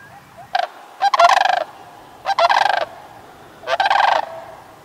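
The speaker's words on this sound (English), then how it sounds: "As a late winter storm rolled in, animals all across the valley arose a cacophony of alarm calls." Turkeys on a ranch give loud, close gobbling alarm calls as a late winter storm rolls in, three separate bursts of rapid gobbles with short pauses between them.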